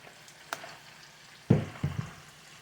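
Food fries in a little olive oil in a pan over high heat, giving short, quiet crackling sizzle bursts, including a cluster of pops near the end, with no talk.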